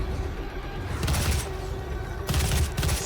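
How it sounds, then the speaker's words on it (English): Bursts of gunfire in a video game, crackling in two loud volleys around the middle and end of a short stretch, over a steady game background with no talk. "Who is shooting me?"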